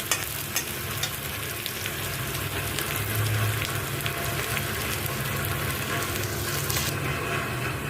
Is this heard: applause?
no